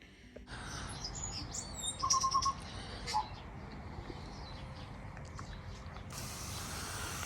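Fantails chirping in a garden near a boatyard during a haul-out, a few bright, short calls standing out over a steady background hum of outdoor activity.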